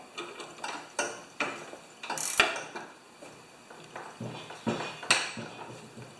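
A ratchet with a 13/16 socket works on the output shaft of a 30-inch YardWorks snowblower, giving close, uneven clicking strokes and metallic clanks in short bursts, with no talking.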